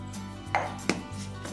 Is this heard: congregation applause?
no